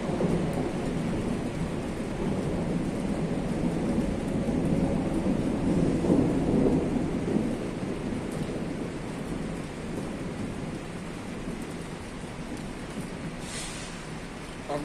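A thunderstorm in Benidorm in April: steady heavy rain with deep rolling thunder building and fading over the span, a sustained loud wash of noise with no talk.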